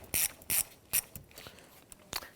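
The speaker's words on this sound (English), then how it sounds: "We're going to use a 10mm socket, our extension and ratchet, to go ahead and loosen the" A ratchet with a 10mm socket on an extension loosens the battery nut on a 2011-2015 Kia Sorento 2.4L four-cylinder, giving several short, close bursts of crisp clicking separated by brief pauses.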